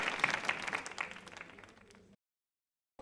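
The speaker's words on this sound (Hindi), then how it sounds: "संगीता जी के लिए तालियां जोरों से बजाइए, जोरदार तरीके।" Studio audience at a cancer hospital quiz show clapping for a contestant, a short burst of applause that fades out over about two seconds before silence.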